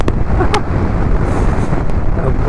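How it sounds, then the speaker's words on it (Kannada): Steady, loud wind roars and buffets the microphone throughout while riding a motorbike, a constant rushing noise with no talking. "ಅಷ್ಟು ಜೋರು ಗಾಳಿ ಐತಿ"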